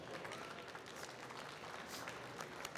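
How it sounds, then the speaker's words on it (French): Audience applause for the judges at a bartending event in a spirits bar, a dense steady patter of clapping from a crowd lasting the whole moment without a break. "Et on peut applaudir les juges"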